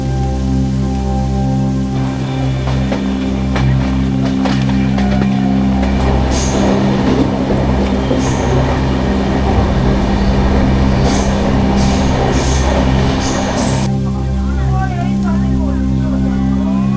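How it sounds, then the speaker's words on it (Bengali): The Doon Express rolls into Benares, heard from on board as a loud, steady low rumble and hum with rattling clatter that swells in the middle and eases toward the end. "দেখতে দেখতে আমাদের ট্রেন পৌঁছে গেল বেনারসে।"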